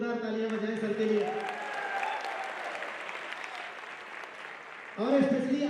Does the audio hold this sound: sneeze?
no